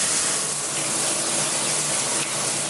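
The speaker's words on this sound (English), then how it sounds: "I'm gonna go shower and then get ready." A shower runs with a dense, continuous rush of spraying water, loud and close, with no talking.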